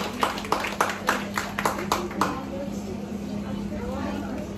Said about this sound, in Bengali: সবাই আমরা একটু করতালির মাধ্যমে ওনাদেরকে উৎসাহিত করি।